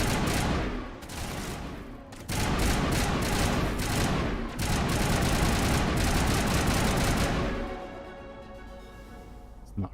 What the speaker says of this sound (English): That's a pretty neat little grenade.